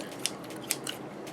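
Scissors cut nearby for DIY school supplies, making a few quick crisp metallic snips in an otherwise quiet room.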